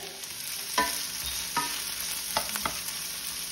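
Onion and bacon sweating with garlic in hot olive oil for cannelloni: a constant soft sizzle broken by several sharp clicks and scrapes of stirring in the pan.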